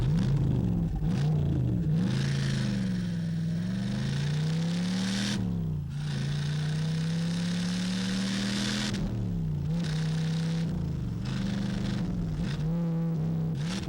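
A Chevy Camaro engine revs repeatedly and loudly up close, its pitch climbing and falling in several swells with brief pauses between bursts, with no voices.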